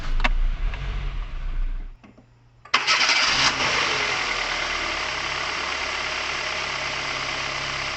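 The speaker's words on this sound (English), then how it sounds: "Then try starting the car." A car engine cranks briefly after a starter replacement, goes quiet for a moment, then catches and settles into a steady, loud idle that runs on.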